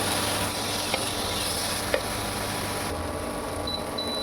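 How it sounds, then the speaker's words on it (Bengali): Ginger, garlic, green chilli and tomato fry together over low heat as a mushroom masala base, giving a steady, close, even sizzling hiss throughout with a couple of faint clicks. "মধ্যে দিয়ে দিলাম টমেটোটা, সব আমি একসাথে মতো ভেজে নেবো।"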